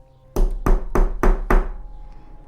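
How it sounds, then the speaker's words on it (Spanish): Five firm knocks on a wooden door, evenly spaced and close, as a sound effect in a Spanish-language radio drama about a haunted hacienda; a short resonant tail follows the last blow. "haciendo más intenso el golpeteo de la puerta"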